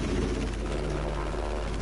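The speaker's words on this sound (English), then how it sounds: "Right, I can hear the plane." Aircraft engine drone in the game Battlefield 5, a steady low propeller hum sustained through the whole moment, fairly loud and without speech over it.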